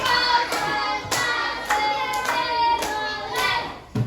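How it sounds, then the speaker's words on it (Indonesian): Classroom pupils clap a concentration rhythm together in sharp, evenly spaced bursts with short pauses, their voices chanting along. "Tepuk konsentrasi."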